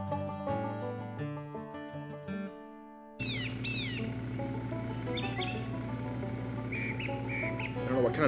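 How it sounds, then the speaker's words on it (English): After a short stretch of music, a bird sings clear, repeated chirping phrases over a steady background hum, fairly close. "I don't know what kind of bird that is"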